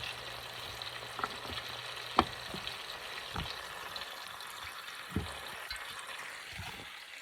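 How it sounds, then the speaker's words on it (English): Quiet, steady sizzling of mushrooms, peppers and tomatoes sautéing with garlic in a pan, with occasional soft pops and clinks. "Sizzle, sizzle."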